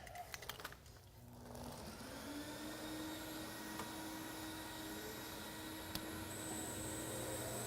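Concrete floor polishing machine grinding a self-leveling concrete overlay with a 400 grit pad, a steady continuous motor whine with a sustained hum rising slightly after a brief dip, running alone at moderate distance.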